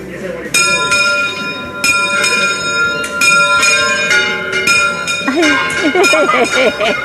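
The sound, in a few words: bell ringing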